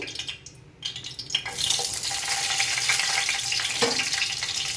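Broken green chillies hit hot oil in a pan and sizzle loudly, with steady frying hiss and stirring close by after a brief quieter start.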